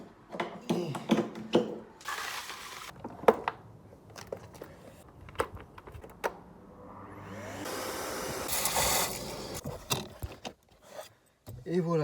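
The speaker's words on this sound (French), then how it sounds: "maintenant l'étape ça va être de savoir comment ça fonctionne un aspirateur" A vacuum cleaner works over the interior of a car, its whine rising in long sustained stretches broken by bumps, clicks and rattles as the nozzle moves around; brief voices are heard in between.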